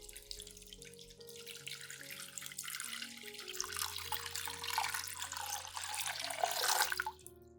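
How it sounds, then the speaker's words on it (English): Room-temperature water pours steadily into a clean saucepan holding potato peels, a continuous splashing trickle that builds slightly in intensity before stopping abruptly near the end, with no voices. "And add about 500 milliliters of room temperature water."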